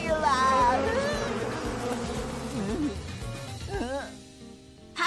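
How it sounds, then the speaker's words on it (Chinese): A swarm of bees buzzes in a steady drone under an animated cartoon scene, while a voice cries out in high, rising shouts over the hum. "原来是你偷走了蜂后，怪不得蜜蜂都要盯着你呢"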